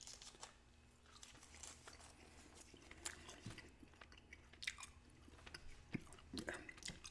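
Gum chewing close to the ear: soft wet smacks, clicks and crinkly crunches in an irregular rhythm, quiet and intimate with no talking.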